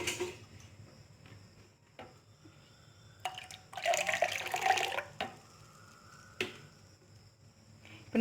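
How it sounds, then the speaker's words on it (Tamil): Water poured into buttermilk in a kitchen: a short burst of pouring and splashing in the middle, set among scattered clinks, knocks and drips, close by with no talking. "இன்னும் கூட ஒரு 1/4 டம்ளர் தண்ணி இதில் எக்ஸ்ட்ரா ஊற்றிக்கலாம்"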